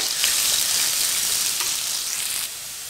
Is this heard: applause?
no